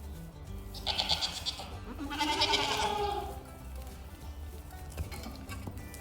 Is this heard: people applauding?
no